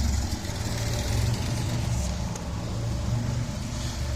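A Nissan 280ZX with a cammed engine runs steadily, giving a loud, choppy, lumpy rumble with a rhythmic lope that holds through the whole stretch, with no voices over it.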